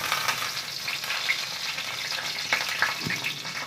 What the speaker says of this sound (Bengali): এবার দিয়ে দিচ্ছি কয়টা রাঁধুনি দিয়ে দিচ্ছি